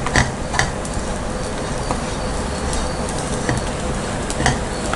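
Desiccated coconut roasts in a pan while being stirred, giving a constant dry sizzling hiss with scattered light scraping clicks, close by and fairly loud.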